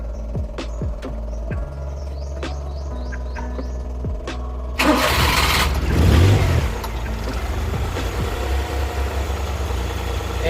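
Suzuki F6A engine in a Multicab mini truck cranking and catching, a burst of starter and engine noise after a quiet stretch of ticks and chirps, then settling into a steady close idle.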